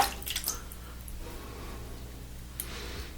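Water drips onto a shaving puck soap in a quiet room, a few soft close drops early and another near the end over low background hiss.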